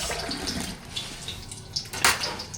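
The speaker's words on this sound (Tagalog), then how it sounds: "Lalagyan natin tubig yan." Tap water runs into a cooking pot, a steady splashing gush with small surges, heard alone at close range.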